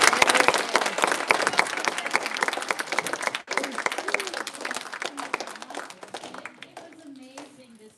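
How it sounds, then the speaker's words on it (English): An audience claps for a senior presenter at a school senior presentation, dense steady applause that gradually thins and fades near the end, with some talking mixed in. "All right, clap for Korbyn and"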